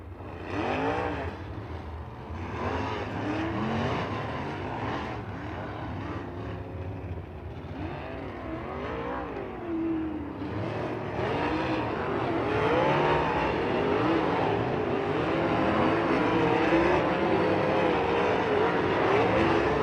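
Sprint cars in a USAC race at Lincoln Park roar together at a green flag start, a dense sustained engine howl with rising and falling revs that swells louder toward the end.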